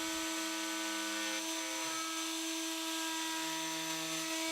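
A router on a Pantorouter cuts a segmented woodturning workpiece, holding a loud, steady whine with a strong hum throughout and only slight shifts in load.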